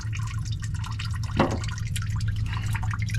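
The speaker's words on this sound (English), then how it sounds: "Just untighten it and then it start draining out." Engine coolant draining out of a radiator drain plug on an overheating vehicle, a steady dripping, trickling flow with one brief louder splash midway, heard close over a constant low hum.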